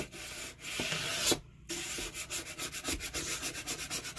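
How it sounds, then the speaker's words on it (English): A scraper card or gift card rubbed along the length of a transfer sign gives a continuous dry scraping rub in quick repeated strokes, close and fairly quiet, with one short pause partway through. "you're going to take your scraper card or gift card, whatever you have, and you're going to rub down the length of the sign."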